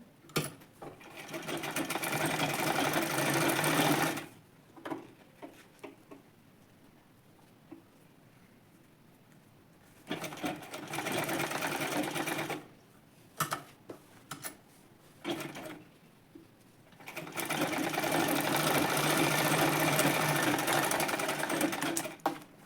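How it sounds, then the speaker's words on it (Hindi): A sewing machine stitches waste fabric for a scissors organizer, running in three long, steady whirring bursts with quiet pauses and small handling clicks between them. "ये यहाँ से इस पे एक सिलाई इस साइड से लगाएंगे।"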